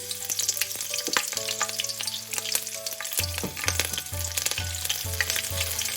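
Cumin seeds and a green chili sizzling in two spoons of hot oil in a pan for chicken keema thukpa, a steady close crackle and spatter with some low background hum and no talking.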